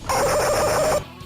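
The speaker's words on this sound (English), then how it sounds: "There's a deafeningly loud kookaburra soundbite in the jungle stage." A loud, digitized kookaburra-like call from the jungle stage of the video game Tattoo Assassins, with warbling, cackling pulses, bursts out for about a second, then cuts off abruptly.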